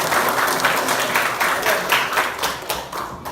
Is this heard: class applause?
yes